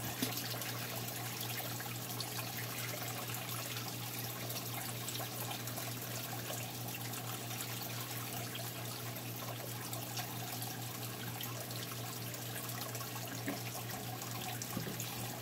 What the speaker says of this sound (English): I'm actually going to now physically pour the last little bit out of the bottom of the bucket